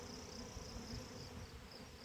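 Honey bees buzzing steadily on an open hive with emerging brood cells, a dense continuous hum close by with no voices.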